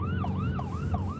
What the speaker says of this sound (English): Oh my God, I hear a siren.